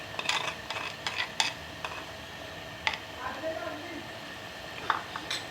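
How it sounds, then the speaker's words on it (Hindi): Chicken frying in oil in a pot while being stirred, giving faint clinks and scrapes of a spoon against the pot over a soft sizzle, with quiet talking in the background. "अब मैं इसके अंदर ये ऑयल डाल के भून लूँगी अच्छी तरह से"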